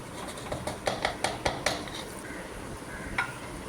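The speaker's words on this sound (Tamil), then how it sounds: "போட்டு நல்லா கலந்து விட்டுக்கலாங்க அதையும் அதையும் நல்லா வதக்க விட்டுக்கலாங்க" Metal spoon scraping and clinking against a pan while fish vada curry masala is stirred, a quick run of close, sharp clanks that tails off into a faint sizzle with a lone tap near the end.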